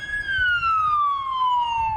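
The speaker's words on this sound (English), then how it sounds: "We spotted this ambulance trying to navigate its way through the neighborhood looking for a clear route across the tracks." Ambulance siren from a vehicle working its way through a neighborhood near a train crossing blocked by a stopped train, a loud, steady wail that slowly falls in pitch over a low rumble of road and engine noise.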